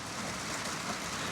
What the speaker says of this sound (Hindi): बारिश आ गई है, हम थोड़ा डिस्टर्ब होगा